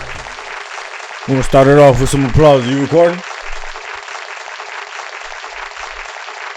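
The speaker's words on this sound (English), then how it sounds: "gonna start it off with some applause" Applause opening a sports podcast episode, a steady hiss of many clapping hands running throughout, with someone briefly talking over it in the middle before the clapping continues alone.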